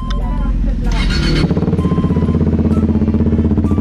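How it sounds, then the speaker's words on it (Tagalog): A 2017 KTM RC 390, its 400cc single-cylinder engine revving hard at close range, then dropping into a loud, rapid, evenly pulsing thump as the revs settle. "Single cylinder lang ito mga boss ha. At 400cc lang. 2017 model KTM RC 390."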